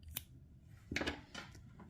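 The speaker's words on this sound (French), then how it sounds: "Je n'ai pas coupé encore le fil. Je vais le faire." Scissors snip through crochet yarn while a Christmas garland is being made, giving a few quick, crisp close-up cuts with brief pauses between them and no talking.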